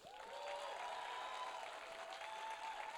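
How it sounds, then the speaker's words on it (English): A large audience at a film Q&A event claps steadily and continuously, a dense wash of applause that sounds somewhat distant and low in level. "I'd also love to keep that applause going"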